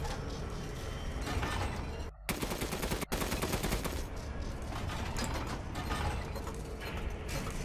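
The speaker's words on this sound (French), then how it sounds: "Mitrailleuse." Rapid, sustained machine-gun fire in the game Resident Evil Village rattles continuously at close range, briefly cutting out twice before resuming, with no talking.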